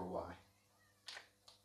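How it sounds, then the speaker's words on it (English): A cat meowing at a door, wanting to be let inside: a brief vocal cry at the start followed by two short, sharper calls, fairly close, with a faint low hum underneath and no talk over it. "The cat wants in."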